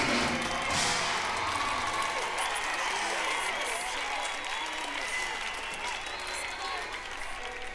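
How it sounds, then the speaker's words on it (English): Crowd applause samples in a live music mix form a dense, sustained wash of clapping with faint cheering. The sound stays at an even level throughout. "So as you can hear, they just add a little bit of applause."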